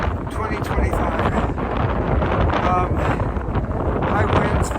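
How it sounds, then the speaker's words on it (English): Strong, cold gusting wind on the Appalachian Trail roars across the microphone as a loud, continuous rush with uneven surges. "it's sunny, but windy and cold. 30 to 35 miles per hour wind gust."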